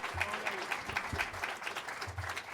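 Faint, scattered audience applause at a New York forum continues with a few brief voices mixed in among the clapping.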